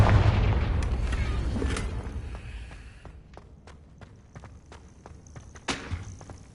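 A Confringo fire spell explodes in Hogwarts Legacy, a deep rumbling boom that slowly dies away before a run of light, evenly spaced footsteps takes over, with a brief sharper burst near the end.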